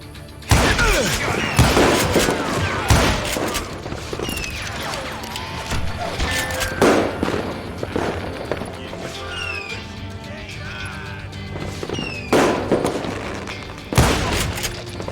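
Repeated gunshots ring out in the Western shooter Call of Juarez Gunslinger, loud booming blasts in bursts across the stretch with echoing tails, mixed with game music and effects between volleys.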